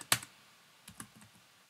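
A command is typed on a computer keyboard: one sharp loud keystroke, then a short run of softer clicks close by, with no talking.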